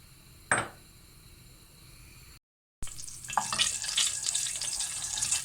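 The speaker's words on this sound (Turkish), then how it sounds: "Şimdi yağımız ısındı. Erişteleri koyuyorum. Güzelce kızartacağım erişteleri." Noodles (erişte) drop into hot oil in a pot, a sharp clatter followed by a quiet pause, then a bright, steady sizzle of frying that grows and continues to the end.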